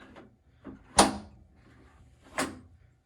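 A car door on a restored vehicle being worked, with a few short clunks and latch sounds, one sharp close-range bang in the middle and another softer thud near the end, in a quiet garage.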